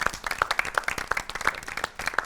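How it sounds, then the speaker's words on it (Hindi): A reality-show studio audience on its feet in a standing ovation, clapping steadily and fairly close, with dense overlapping claps and no voices on top. "आप सब लोग भी तालियां बजाएं भाई"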